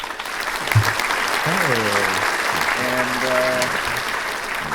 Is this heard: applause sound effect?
yes